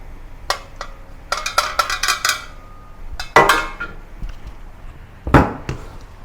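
Steamed yam being moved from a steamer into a large mixing bowl: a string of sharp metal-and-ceramic clinks and knocks, some in quick clusters, with brief pauses and two louder clanks later, and no one talking.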